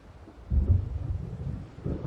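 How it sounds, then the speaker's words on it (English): Thunder from an approaching storm in the video game Alan Wake rumbles low and alone, swelling from a quiet start into a heavy roll that lingers, then surges once more near the end. "It seems there's a storm coming."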